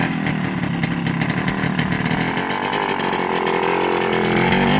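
Old Suzuki motorcycle engine running steadily nearby, a loud continuous rough mechanical drone with rapid firing pulses and slight swells in pitch, no talk over it.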